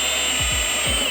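A power drill boring mounting holes for light brackets on a Kubota RTV X1140 utility vehicle, a loud steady high whine close by with a few brief dips in motor pitch as the bit bites.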